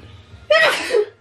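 A single sharp sneeze from a woman indoors, one loud burst with a brief intake before it, close to the microphone and otherwise quiet.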